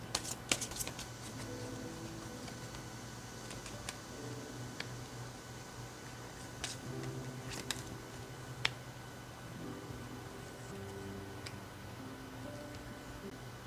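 Tarot cards shuffled and drawn by hand, giving soft, quiet riffling with scattered crisp taps and snaps of single cards, close and intimate, with no talk.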